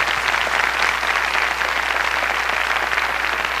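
Studio audience of a Brazilian TV show applauding a singer, a dense, steady wash of clapping at even loudness throughout with no voices over it.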